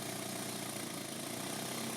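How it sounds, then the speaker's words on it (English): A quasi-turbine engine runs with a steady, buzzing mechanical drone at moderate level, even and continuous across the short stretch with no voices. "Watch the output shaft from the quasi-turbine engine and note the slowing, stopping, and restarting."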